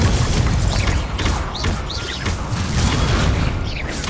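Confringo fire spell blasts in Hogwarts Legacy on PS5 during a wand duel, a dense, loud run of booming bursts and whooshes stacked over continuous game music and effects across the whole span.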